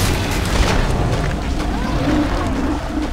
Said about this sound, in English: Time to throw grenades!